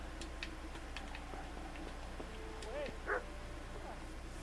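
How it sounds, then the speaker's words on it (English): Within the medieval video game Kingdom Come: Deliverance, a dog gives a short yip and bark or two against a quiet background with faint ticking and scattered small sounds, fairly distant and soft. "I hear a dog."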